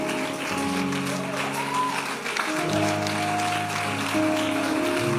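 Church congregation applauding together, a steady wash of clapping that carries on throughout, mixed with held musical tones from instruments in the background.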